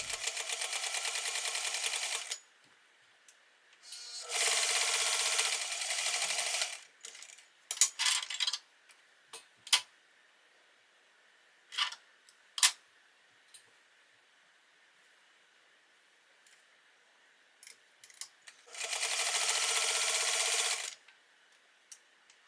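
A sewing machine runs long stitches through thick, fluffy fabric for a trapper hat in three loud bursts of a few seconds each. Between runs come quiet gaps with small scattered mechanical clicks and knocks.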